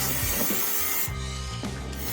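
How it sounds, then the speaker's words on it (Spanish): Spray grease hisses onto the chain of a Yamaha Raptor 350 quad in two close, steady bursts separated by a short pause. "Para la cadena me gusta usar grasa en spray"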